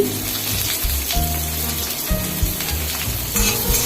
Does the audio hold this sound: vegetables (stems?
yes